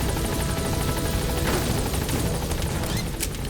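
A helicopter in Metal Gear Solid V throbs loudly and continuously with a dense rotor roar, while faint scattered gunfire crackles underneath.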